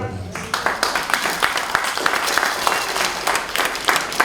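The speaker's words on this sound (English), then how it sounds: "Give him a round of applause" Applause from an audience at a reggae forum, a crowd clapping in a dense patter with some sharper individual claps, while talk continues over it.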